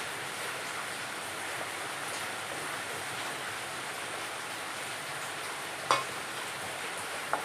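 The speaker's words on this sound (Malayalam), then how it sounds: "നമുക്കിനി നാളികേരം അരച്ചത് ഒഴിച്ചു കൊടുക്കാം." Ground coconut paste being poured and stirred into a simmering dried fish curry, a soft continuous bubbling hiss with a faint clink near the end.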